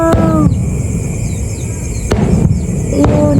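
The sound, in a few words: fireworks exploding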